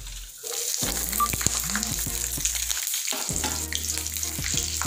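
Chana dal, urad dal, peanuts and dried red chilies fry in hot oil in a pan, giving a steady close sizzle with stirring scrapes and a brief quieter gap partway through.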